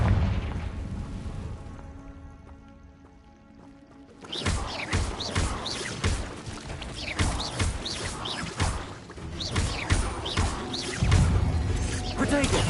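Confringo blasting spell exploding in the video game Hogwarts Legacy: a sudden booming burst followed by rapid crackling impacts and rumbling battle noise, loud, with a voice speaking earlier.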